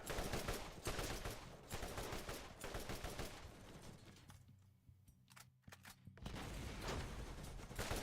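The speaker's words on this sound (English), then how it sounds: "I'm trying to shoot your turret down" Rapid gunfire in the video game Borderlands, aimed at a turret, with dense bursts of shots that pause briefly before resuming, loud and continuous with no talking.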